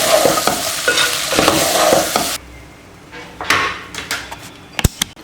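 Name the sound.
stirring pasta in a pan after turning off the stove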